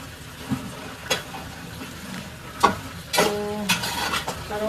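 Tulsi leaves are added to homemade hair oil heating in a pot on the stove, bringing bursts of crackling sizzle and spoon-scraping stirs, with a few metallic clinks over a steady frying hiss.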